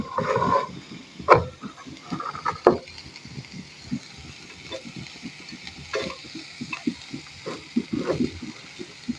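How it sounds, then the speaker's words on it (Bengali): Onion, garlic, cumin and chopped spices sizzle in a pan for a Bangladeshi bean fry while a spoon stirs them, giving soft continuous frying with irregular scraping clacks and taps. "পরিমাণ মতো পেঁয়াজ, রসুন আর একটু জিরা দিয়ে ভালোভাবে নেড়ে নেব।"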